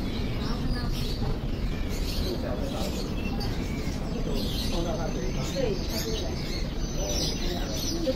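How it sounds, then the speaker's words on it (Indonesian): Birds chirp and pigeons or doves coo along a street lane in Geylang, Singapore, a busy mix of calls over steady outdoor background noise, with people talking at times. "Burung"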